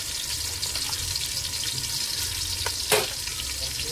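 Okra fries in hot oil in a pan, a steady close crackling sizzle with a few brief clinks and one sharp scrape or splash near the end.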